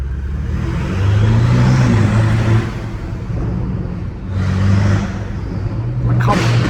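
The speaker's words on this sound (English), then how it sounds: "hearing those turbos is everything to me" A BMW M5 Competition drifting through rain-soaked corners, its twin-turbo engine surging and swelling in loud rising and falling waves with whooshing turbo whine and road spray, passing close, then fading and returning.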